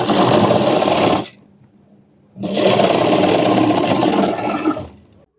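A sewing machine double-stitches the lining fabric of a short frock, with two loud close bursts of rapid whirring stitching separated by a brief pause and no talk.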